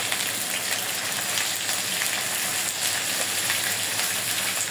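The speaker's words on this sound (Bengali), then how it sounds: "এই যে আমার চিংড়ি মাছটা ভাজা হয়ে গেছে, পেঁয়াজ ভাজা হয়ে গেছে" Shrimp with onion and garlic frying in oil in a pan, a continuous dense crackling sizzle, close and even, with no pauses.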